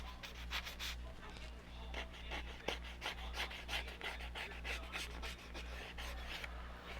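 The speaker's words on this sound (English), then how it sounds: "you can use this sandpaper thing to help work out your edges" A rough, sandpaper-like sheet rubbed back and forth over paper edges in quick, close rasping strokes, soft and steady over a low background hum.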